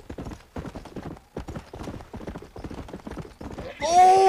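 Horse hooves clip-clop in Red Dead Redemption, a steady run of close, rhythmic hoofbeats that ends in a sharp whinny.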